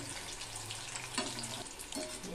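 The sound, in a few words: frying chicken 65 a second time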